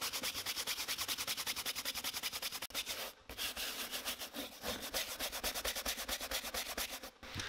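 A suede brush with brass bristles in the middle and nylon bristles on the outside is rubbed briskly back and forth over boot leather, making fast, even, close scrubbing strokes with two short breaks.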